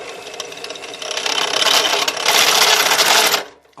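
A power drill bores into a homemade brake caliper conversion bracket for a 1995 Honda Accord, a close, loud, rattling whir that builds and holds steady before cutting off abruptly.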